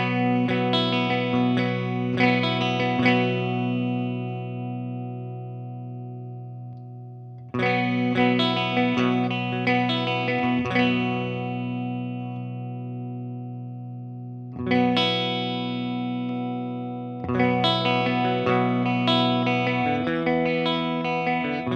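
An electric guitar plays through the clean channel of a Laney Ironheart amplifier into a Celestion Vintage 30 and G12T-75 speaker, strumming sustained ringing chords in repeated phrases that decay between strums, with no talking.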